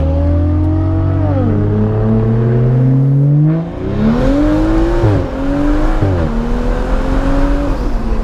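A stage 2 tuned M235i engine revs hard through rising gears, loud and close, the pitch climbing, dropping at each shift, then climbing again.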